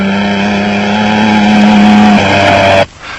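A tiny Chenoweth off-road race car at the Roof of Africa race in Lesotho roars loud and close with a strong steady engine tone, shifting pitch before cutting away abruptly near the end.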